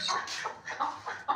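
Hens on a poultry farm cluck in a series of short, close calls, several bursts in quick succession with brief gaps between.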